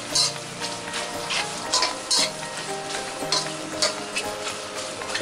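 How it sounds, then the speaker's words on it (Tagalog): Beef lung fries in a pan until lightly toasted for kilawin, giving a steady, close sizzle and crackle with brief louder spits and no talking. "kaya ako po piniprito ngayon itong baga para medyo maging toasted po siya ng konti"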